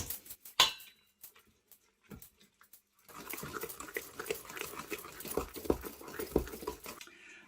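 Cake batter ingredients for a Halloween graveyard cake being mixed in a bowl, with a few sharp clinks of a utensil at first, then steady, busy scraping and stirring.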